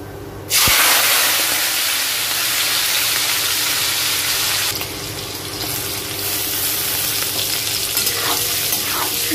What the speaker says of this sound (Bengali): দিয়ে দেব একটা তেজপাতা, একটা এলাইচি, একটু জিরে।